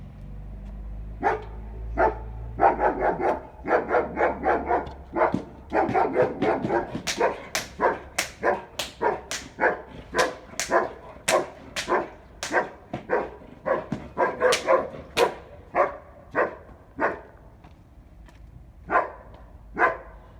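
A dog barks repeatedly during guard dog training, sharp loud barks in an irregular but steady run over about twenty seconds, close by, with no speech.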